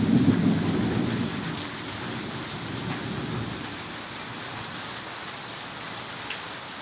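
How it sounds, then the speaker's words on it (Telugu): Heavy rain pours down steadily over garden trees, with a low rumble of thunder rolling through the first few seconds and a few sharper drips and spatters later. "చాలా పడుతుంది వర్షం."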